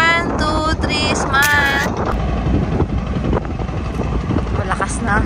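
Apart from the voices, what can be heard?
strong wind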